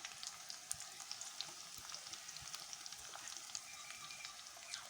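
Crushed ginger and garlic frying in a pan, a soft continuous sizzle with fine crackling pops throughout, fairly quiet and unbroken.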